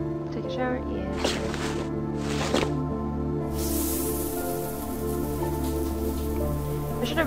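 A shower running in a video game, a steady hiss of falling water that swells louder partway through, with short voice sounds over it.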